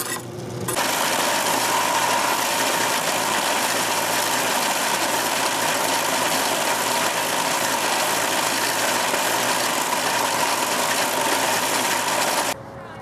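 A motor spins a homemade leather strop wheel mounted on a shaft, keeping up a loud, steady hum with mechanical rattle for over ten seconds before cutting off sharply near the end.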